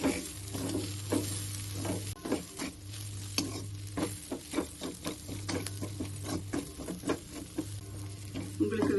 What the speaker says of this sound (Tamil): இதை வந்து ஒரு அஞ்சு நிமிஷம் திருப்பி விடணும்